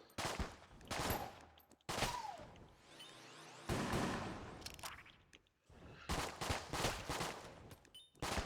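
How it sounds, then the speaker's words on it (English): Rapid bursts of gunfire and bullet volleys from the Enter the Gungeon video game, dense clustered shots in several waves with short gaps between them. "Those are like ninja bullets."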